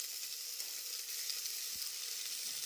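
Mint and coriander leaves fry in hot oil with ginger garlic paste for bagara rice, a soft continuous sizzle with a faint stir thump, close and steady with no talk.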